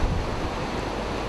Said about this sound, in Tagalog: Naglalakihan din ang mga along humahampas sa pampang.